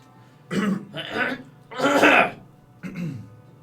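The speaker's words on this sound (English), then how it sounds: "I kind of just cough loudly when I'm there." A person coughs and clears their throat in four rough, throaty bursts spaced apart, close to the microphone, with quiet gaps between.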